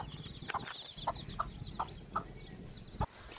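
A village hen clucks nearby in a series of about seven short, evenly spaced clucks over a soft outdoor background, with no talking.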